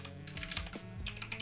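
Someone types a short command on a computer keyboard to open a terminal, a quick, close run of crisp key clicks over a faint background hum.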